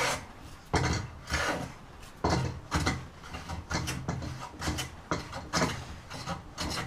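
Hand plane shaving wood on a rustic candle holder, repeated rasping strokes in an uneven rhythm of about a dozen passes, close and clear with short pauses between.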